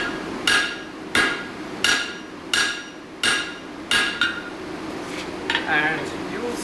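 Metal is struck repeatedly with a hammer to adjust a set down, giving about eight sharp, ringing blows at an even pace, then a few lighter taps at the end, close and loud.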